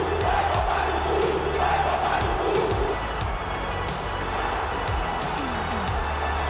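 A large crowd at a Formula One circuit for the 1996 Brazilian Grand Prix roars and jeers when Schumacher's name is announced, a loud, sustained wall of massed voices with a few shouts and a low rumble underneath.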